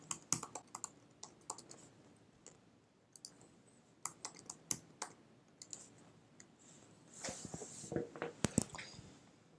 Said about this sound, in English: You'll type in your email address.